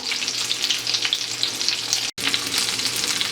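Breaded pork loin sizzles and crackles steadily in a generous amount of olive oil in a Teflon pan. The frying is close and continuous, with one brief dropout partway through.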